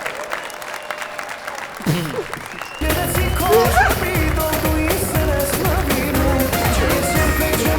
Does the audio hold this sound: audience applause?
yes